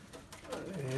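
Domestic tumbler pigeons in a coop give a low cooing call that swells near the end, faint and close, with a voice talking over the birds.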